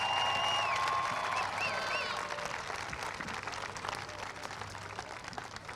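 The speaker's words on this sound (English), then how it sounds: "Let's give them a big round of applause." Crowd at a high school homecoming game applauds the homecoming court, a broad, distant wash of clapping and cheering with whistles early on, fading gradually.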